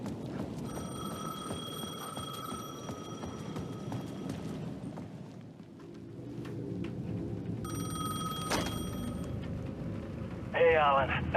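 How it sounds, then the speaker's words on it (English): A payphone ringing at the edge of a plaza in Alan Wake 2, two separate bursts of a trilling electronic bell over a dark rumbling ambience, fairly distant. "The payphone at the edge of the plaza was ringing again"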